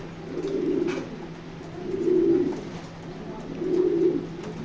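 Three low, throaty coos from a racing pigeon roll out at a steady pace, close by, over a quiet background hum.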